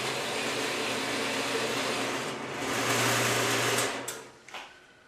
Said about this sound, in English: Then I head back to the saw to cut the first part out of that smaller block.